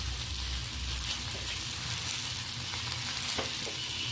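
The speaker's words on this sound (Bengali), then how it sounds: "আর ডাল ফোড়নের সাথে ভালোভাবে আমি কষিয়ে নিচ্ছি" Ridge gourd and potato sautéing with dal tempering and ground spices, a steady close sizzle with occasional light stirring scrapes in the pan, no voices.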